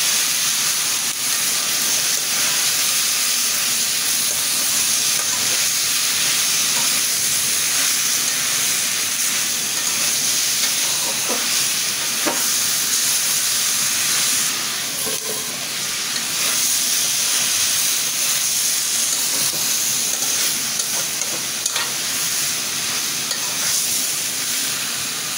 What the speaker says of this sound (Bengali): এখন আমি বেগুন আর মূলা একসাথে দিয়ে দেব।